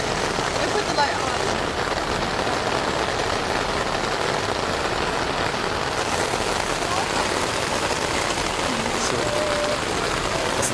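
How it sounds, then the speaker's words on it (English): Heavy rain at the Glastonbury festival pours in a dense, continuous hiss that stays loud and unbroken throughout. "It's intense. It is raining."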